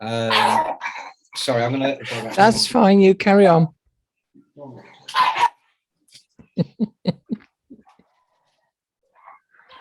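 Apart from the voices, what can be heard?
dogs barking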